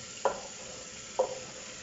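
Vegetables and tomatoes stirred in a frying pan with spices, two distinct scraping stir strokes over a quiet steady sizzle, close and without talking.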